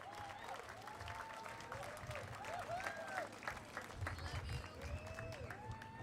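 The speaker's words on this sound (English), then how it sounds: "Y'all better start clapping right now as soon as they start walking up here." An audience applauds steadily at the reopening of a restaurant after major renovations, with mixed cheers and talk through the clapping.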